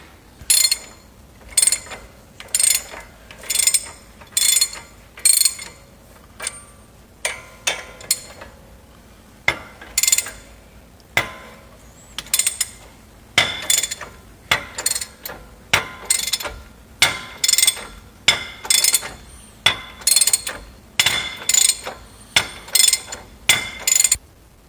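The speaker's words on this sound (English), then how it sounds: "After we remove the dually wheel flange nuts, which is 21mm" Ratchet wrench clicking repeatedly while loosening 21mm flange nuts from the dually rear wheel of a 2017 Ram 4500, sharp metallic bursts in a steady series of bursts and pauses, close and distinct with no speech.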